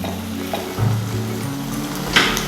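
Ingredients tossed into a pan of hot oil for a Tamil-style bone-in chicken gravy, with halved tomatoes and chicken pieces, sizzle and crackle steadily up close, a brief stir clatter midway and a sharper burst near the end, no talk.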